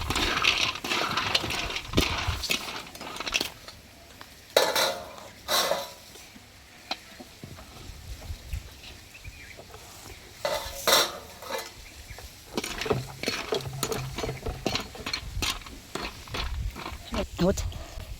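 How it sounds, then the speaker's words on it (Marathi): Turmeric root fries in oil as it is stirred in a pan, with irregular scraping, clattering and metallic clinks and a soft sizzle underneath, while voices talk intermittently nearby. "हे चांगलं हळकुंड चांगलं तळून घ्यायचं आहे बघा"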